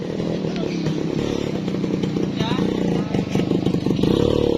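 A motorcycle engine runs steadily close by, its low rumble continuous throughout, with faint clatter on top.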